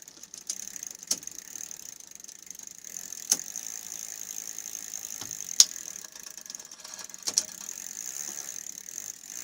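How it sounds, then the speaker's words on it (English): A bicycle gear shifter that is not fully in position gives a faint, continuous grinding with a high whine, broken by four sharp ratcheting clicks spaced a couple of seconds apart. "Slight grinding noise, which tells me that this shifter is not fully where it needs to be."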